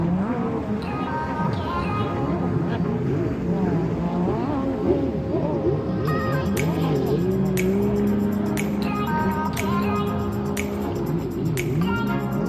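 Jet skis running on a lake at a country park give a continuous loud engine drone with shifting, rising and falling pitch as the craft pass, and sharp clicking noises join in the second half.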